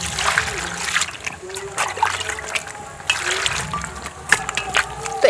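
Chopped snake gourd pieces being washed in a bowl of water, with repeated splashing, sloshing and trickling as the pieces are rubbed and stirred by hand, fairly loud and close.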